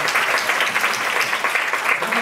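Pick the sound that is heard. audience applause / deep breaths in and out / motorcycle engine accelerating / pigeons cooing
audience applause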